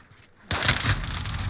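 Rapid gunfire in a Call of Duty match bursts in loudly after a quiet start and continues as a dense, crackling barrage with no talk.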